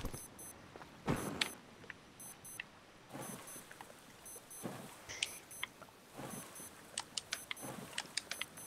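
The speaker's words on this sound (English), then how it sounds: "I think it's my beeping is the watch telling me I'm about to die." Electronic beeping of a watch in the survival video game Stranded Deep, short high-pitched beep bursts repeating at intervals over quiet background noise, with no talking.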